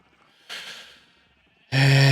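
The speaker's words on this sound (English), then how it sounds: "those sheep are really annoying" Two short sheep bleats from the video game Minecraft: a soft, breathy call, then after a gap a louder, harmonic bleat that cuts off abruptly, with no talk.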